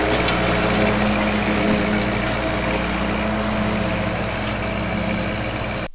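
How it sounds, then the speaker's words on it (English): A tractor engine, started by pull cord, runs at a steady idle with a loud, even mechanical drone and low throb that continues without a break before cutting off abruptly at the end. "the only way to start it is pull starting it like that"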